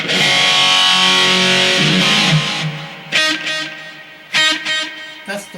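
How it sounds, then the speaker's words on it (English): Electric guitar with a distorted 70s-style tone through a BOSS eBand JS-10, using slapback digital delay to emulate tape echo: a held chord rings and fades, then short, sharp stabbed notes follow, each trailed by a quick echo. "here is how I achieve my slapback delay tape echo emulation"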